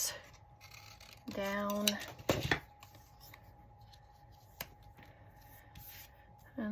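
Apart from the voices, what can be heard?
cutting a piece of backed paper for a collage postcard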